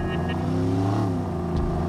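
A powerful car engine in the video game Watch Dogs revs hard, a loud sustained growl with rising harmonic tones throughout, heard up close and alone.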